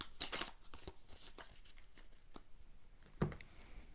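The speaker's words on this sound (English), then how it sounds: "shuffle the entire hit location deck again" A hit location card deck from the Kingdom Death: Monster board game is shuffled up close, with quick papery riffles and sharp snaps of cards.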